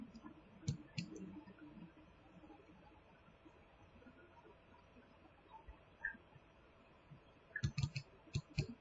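Mouse clicks while working in Paint Shop Pro, faint sharp clicks: a couple near the start and a quick cluster of several near the end, with quiet room tone between.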